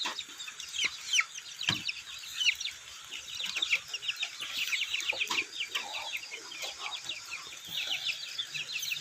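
Many Lad Daeng chickens cluck and chatter close by in a busy, overlapping stream of short calls, with occasional louder squawks and scratching sounds.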